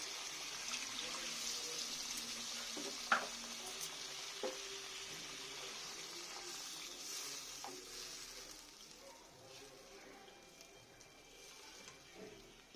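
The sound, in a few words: frying for katla posto curry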